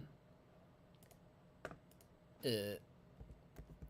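Scattered clicks of typing on a computer keyboard, sparse and fairly soft, broken midway by one short, loud tonal burst before the tapping resumes.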